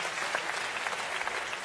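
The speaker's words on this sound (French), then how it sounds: "Faut être ensemble pour les applaudissements, sinon c'est bizarre." Audience applause at a French comedy troupe's live show, a dense, steady wash of clapping from a crowd that holds at an even level throughout.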